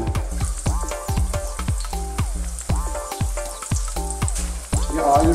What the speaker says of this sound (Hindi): ऑयल गर्म हो गया है, अभी हम लोग डायरेक्ट ऑयल में फ्राई करने